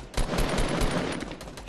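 Rapid automatic gunfire in the video game Fortnite, a dense continuous burst of shots at close range filling the whole moment, loud and steady.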